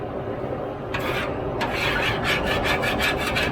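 A metal spatula scrapes food scrapings across a Blackstone griddle, quiet at first and then a run of rapid, rhythmic rasping strokes close to the microphone.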